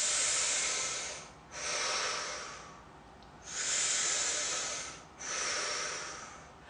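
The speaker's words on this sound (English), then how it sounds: "and breathe" Slow, deep breathing during a stretch, close and soft: three long airy breaths, each swelling and fading with short quiet gaps between them.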